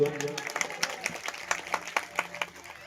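A crowd at a Shri Ram katha religious gathering claps in a steady rhythm, with sharp, evenly spaced hand strikes over a faint sustained tone.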